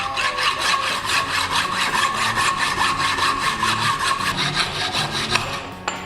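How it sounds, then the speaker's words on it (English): A hand saw cuts through the excess of a bicycle fork steerer tube held in a vice-mounted tube cutting guide, loud close rhythmic back-and-forth strokes that rasp steadily throughout. "now that we've cut the excess off the steerer"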